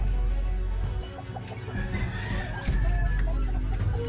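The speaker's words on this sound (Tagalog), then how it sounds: "Sinamahan natin ng inahin si Tapo para madaling bumahit." A hen clucks softly and repeatedly against a low background hum, with faint scattered bird sounds.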